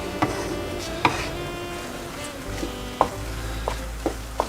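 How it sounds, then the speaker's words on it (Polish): Beets frying in a hot pan on maximum heat, hissing and crackling, punctuated by several sharp clacks of a utensil striking the pan, with a low hum underneath. "Smażymy, smażymy, ogień na maksa."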